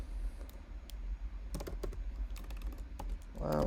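Computer keyboard typing while coding, with close, irregular clusters of quiet key clicks over a low background hum.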